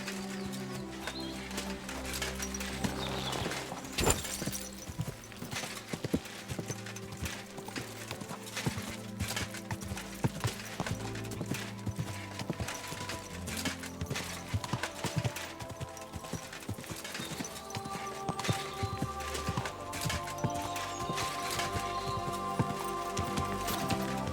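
Steady clip-clop of horse hooves in Kingdom Come: Deliverance 2, a continuous rhythmic trot with mechanical clanking and background sounds layered over it.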